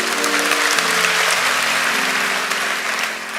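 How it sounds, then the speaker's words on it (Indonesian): Church congregation applauding during a devotional service, a dense, loud, continuous wash of clapping from a large crowd that eases slightly toward the end. "Yang percaya berikan tepuk tangan untuk Tuhan."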